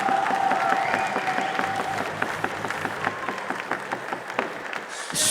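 Sustained applause from an MMA event crowd in Chorzów greeting a fight winner, a dense wash of clapping that holds steady throughout with faint crowd noise underneath.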